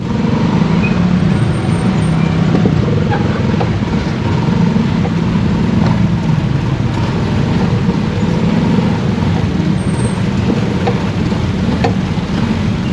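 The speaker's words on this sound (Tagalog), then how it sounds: "Kanina pa tong traffic." Heavy road traffic at an intersection, with cars, trucks and buses idling and creeping past: a dense, continuous close rumble with faint hisses and brake squeals throughout, and no voices.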